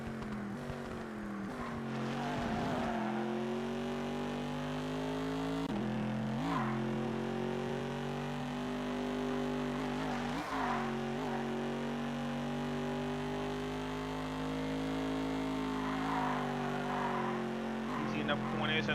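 Ford Mustang race car roaring around Laguna Seca in a PS2 racing game, a sustained loud engine drone shifting pitch through gear changes, with tire squeals and skids at corners, while someone talks over it.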